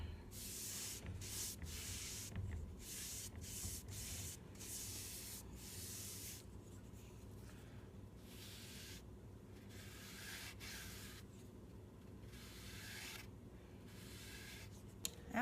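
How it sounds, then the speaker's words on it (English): Semi-gloss polyurethane brushed onto a wooden frame: faint, repeated soft rubbing strokes in a steady back-and-forth rhythm, close by and alone. "And now I am just applying a semi-gloss polyurethane to protect it."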